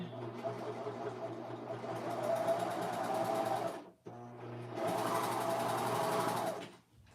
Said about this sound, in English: I'm just serging around my pocket.